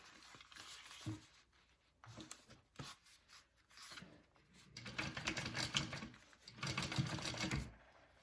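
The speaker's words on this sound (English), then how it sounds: "I'm going to top stitch just through my exterior" Sewing machine top stitching through the exterior of a fabric game bag, a soft close mechanical whir in short runs with pauses and fabric handling, growing steadier and louder toward the end.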